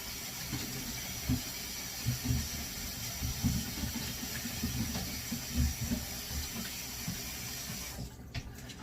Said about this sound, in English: rinse these potatoes real quick